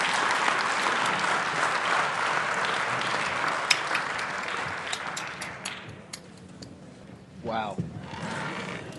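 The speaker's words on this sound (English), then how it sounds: "Everybody clap with me." An audience claps together at a live watch-party talk, a loud steady burst of many hands that thins out after several seconds, followed by a brief vocal exclamation and scattered noise as the applause fades.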